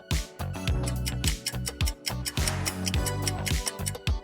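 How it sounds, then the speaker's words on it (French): Rapid, rhythmic metallic snipping, like scissors opening and closing repeatedly, with sharp clicks over a low musical backing. "la réponse est ciseaux, l'outil qui coupe comme par magie."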